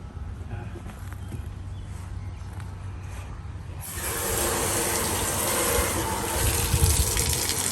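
Water pours into an outdoor pond, first as a low trickle and then, about halfway through, as a louder steady gush that continues to the end.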